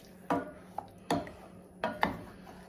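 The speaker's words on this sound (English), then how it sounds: "Let me make sure I got the pan all scraped" A spoon or spatula scrapes a cooking pan of beef for beef and egg noodles, giving four short, close scraping strokes with quiet pauses between them.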